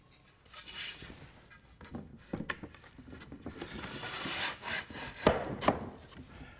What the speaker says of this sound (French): on agrandit le V créé par le burin en travaillant un côté et l'autre.